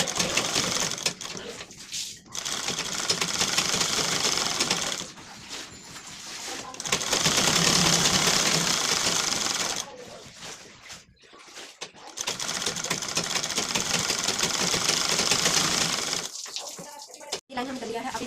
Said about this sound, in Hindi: अब इसे हम ऊपर से ऐसे दबाएंगे, इसे अंदर तरफ हम फोल्ड करेंगे और ये सिलाई हुआ वाला कपड़ा आपको पकड़ लेना है और हमें साइड से सिलाई करनी है।